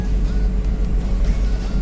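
A manual car engine gets gentle, light throttle and gives a steady low rumbling drone close by, with no speech over it.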